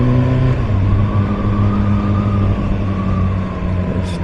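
An MV Agusta Brutale 1000 RS naked motorcycle runs with a loud, steady engine drone as it rides, the tone holding close and even throughout.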